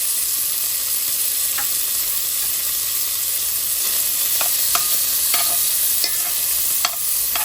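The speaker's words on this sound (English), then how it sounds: "we're gonna start cooking the bacon" Bacon strips frying in a pan with a little vegetable oil added to the rendered grease, a loud, constant sizzle with scattered sharp crackles and spits.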